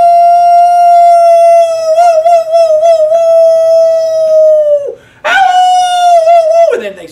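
A voice imitates coyotes howling at night with long, loud, sustained wavering howls, one breaking off and restarting with a yipping rise before fading.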